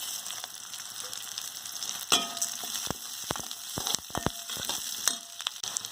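Garlic, ginger and urad dal frying in oil for a chutney produce a close, steady sizzle, broken by a few sharp crackles and stirring clicks, with no talk.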